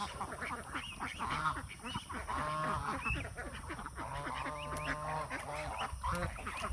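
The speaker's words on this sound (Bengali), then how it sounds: "ওই পাশে আছে রাজহাঁস।" Geese honk repeatedly by a river, a busy overlapping chorus of nasal calls at moderate distance with faint background noise throughout.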